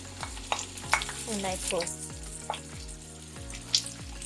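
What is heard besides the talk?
chili and carrots stirred and frying in a pan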